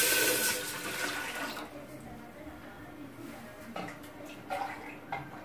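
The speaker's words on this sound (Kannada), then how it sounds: "ಬಿಸಿ ಆದಮೇಲೆ ಸ್ವಲ್ಪ ಒಂದು 2 ಗ್ಲಾಸ್ ಅಷ್ಟು ನೀರು ಹಾಕ್ಕೋಬೇಕು." About two glasses of water poured into a heating pot on the stove for ragi mudde: a loud rushing splash at the start that fades into softer trickling and a few light knocks.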